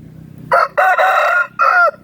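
A gamecock rooster crows close by in a loud, broken call with three bursts, the middle one longest, with no talking.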